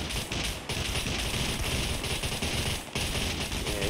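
Gunfire in the survival video game Scum, a dense rapid string of loud automatic shots rattling continuously for several seconds with a couple of brief gaps.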